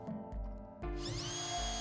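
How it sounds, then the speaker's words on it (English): A power drill pre-drills pilot holes for screws in a door while fitting a mortice deadlock, whirring in short bursts, stopping and starting, then spinning up to a steady higher whine; close and fairly quiet. "Again, pre-drilling pilot holes for your screws."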